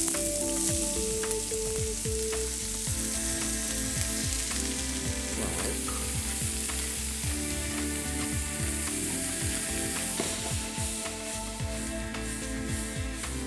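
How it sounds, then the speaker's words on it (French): Vegetables and carrot pan-fry in a hot pan with a loud, steady close-up sizzle, punctuated by frequent short clicks and clinks of stirring, without speech. "Je vais poêler"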